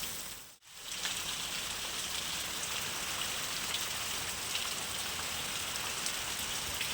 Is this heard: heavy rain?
yes